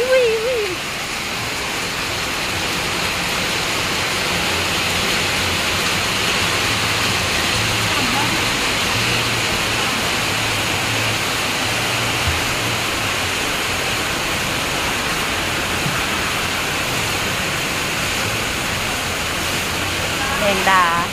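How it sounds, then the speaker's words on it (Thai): Steady heavy rain pours down over an outdoor Thai forest-products market, a dense constant hiss that holds at even loudness throughout, with faint voices beneath it. "ฝนตกฝนตกฝนก็ตกนะค่ะพามาเดินตลาดนัด"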